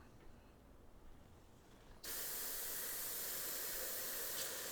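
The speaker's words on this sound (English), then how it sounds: "I'm going to do one more spray through of just thinner" An airbrush spraying plain thinner gives a sudden steady hiss that starts partway through and runs loud and even to the end, after quiet room tone.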